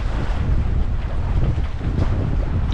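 Strong wind buffets the microphone while sailing a sailboat on Lake Ontario, a loud, continuous low rumble with steady gusting and water wash underneath, no voices.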